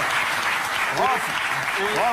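An audience applauds steadily while someone speaks over the clapping, his voice rising above the dense, even patter of hands.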